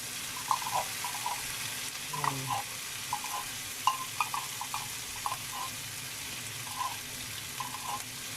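Faint sizzling of corned beef in a pan with light scraping and clinking stirs at irregular intervals, quiet and close, no voices.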